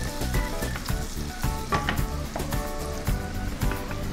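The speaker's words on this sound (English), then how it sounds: "Let's add the sliced tomatoes and green chili. Give it a good stir again." Sliced tomatoes and green chili sizzle loudly in a pot while a spoon stirs them, with dense crackling frying noise and repeated clanks of the utensil against the metal, close and continuous.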